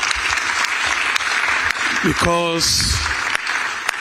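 Audience clapping at a Lagos stakeholder meeting on the Lagos–Calabar coastal highway, mixed with a brief spoken word, a short tonal beep and room noise, fairly loud and close.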